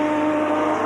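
A Grebensek Racing Yamaha sidecar outfit at a 2000 German world cup sidecar race howls past with a loud, sustained tyre and engine scream, steady for the whole moment.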